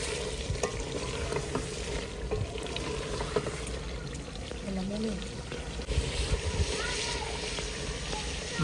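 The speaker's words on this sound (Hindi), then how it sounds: "बोटियां जो है ना वो फ्राई हो चुकी हैं" Pieces of meat frying in a pot in a village kitchen, a steady low sizzle and stirring under background noise, with faint talk in the distance.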